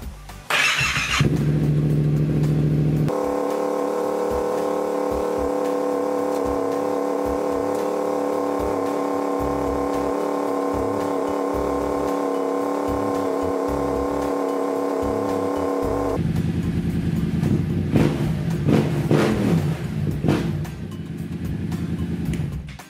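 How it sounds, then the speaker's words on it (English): A Yamaha FZ-07 (MT-07) motorcycle engine idles steadily as it warms up, a loud, continuous low rumble with a constant tone, starting after a brief burst of noise and giving way near the end to clattering, shifting mechanical sounds. "So let's warm the bike up real quick."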